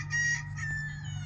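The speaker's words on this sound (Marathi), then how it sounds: "बघा किती मस्त चरताय आणि मोकळ्या सोडलेल्या आपण शेतामध्ये कोंबड्या" Free-range chickens on a farm cluck and call in short bursts over a steady low hum, the birds fairly close and clear, with no voices present.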